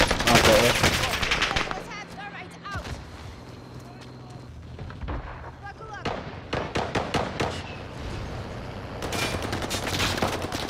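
Bursts of automatic gunfire from Call of Duty: Modern Warfare, with loud rapid volleys at the start and end and scattered shots between, under excited team chatter.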